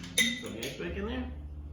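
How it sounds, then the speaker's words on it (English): Ice cubes clink and rattle into a glass while a Gin Gimlet is made with half a lime, giving a sharp burst of clinks near the start that settles into quieter rattling, with someone talking over it. "So the ice back in there."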